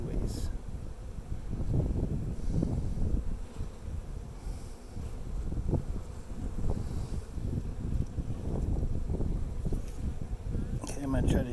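Honey bees humming steadily around an open beehive outdoors, a continuous dense buzz with wind noise on the microphone and occasional handling sounds close by.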